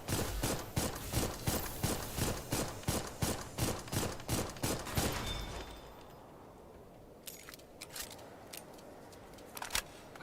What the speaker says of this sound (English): And not only do they have a machine gun of sorts